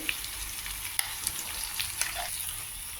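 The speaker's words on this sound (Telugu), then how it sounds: "బాగా మిక్స్ చేసుకుని ఇది స్టవ్ సిమ్లోనే పెట్టుకుని మనం వేయించుకోవాలి" Ground chickpea paste frying and being stirred in a pan over a low flame, giving a soft, steady sizzle broken by faint scraping clicks from the stirring.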